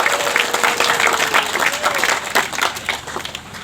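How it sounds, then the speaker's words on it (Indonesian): Audience applause for the farmers at a social forestry festival, loud and fairly close with bursts of clapping and crowd noise and a voice briefly audible underneath. "Tepuk tangan untuk seluruh petaninya."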